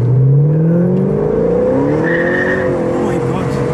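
A small Smart car revs and accelerates hard at full throttle, the engine note climbing steadily in pitch and staying loud and close, with a brief tire squeal partway through and no talk over it.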